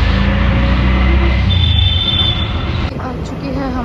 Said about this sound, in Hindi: आ चुकी है हमारी डियरेस्ट मेट्रो। इस शोर को टॉलरेट करना ही पड़ेगा।